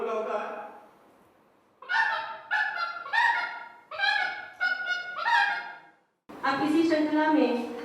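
A human voice on stage imitates a farm rooster crowing in a string of loud, harmonic calls, including a long drawn-out crow at the end, separated by brief pauses.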